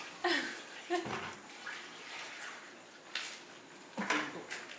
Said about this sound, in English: So the fresh water to rinse it in.